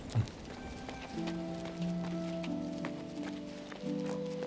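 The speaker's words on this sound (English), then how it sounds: "Oh, horse." A horse gallops in the fantasy video game King's Bounty II, with quick clip-clop hoofbeats running under sustained in-game music tones at moderate loudness.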